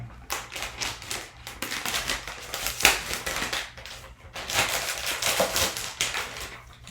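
The packaging of a new 24-inch iMac is opened with bursts of crinkling, scraping and tapping rustles from cardboard and wrap. The sounds are close and come in uneven clusters with short pauses between them.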